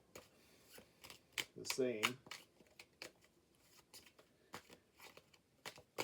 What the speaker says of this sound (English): hopefully I shuffle the cards good so nothing is